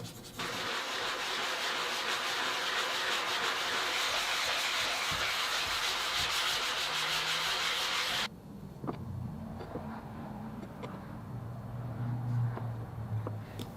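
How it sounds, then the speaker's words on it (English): Steady, broad abrasive rasping of a flat sanding block worked over a maple guitar neck scarf joint, loud and continuous, then dropping to quieter, intermittent scraping strokes. "use a nice flat sanding block to finish flattening everything out"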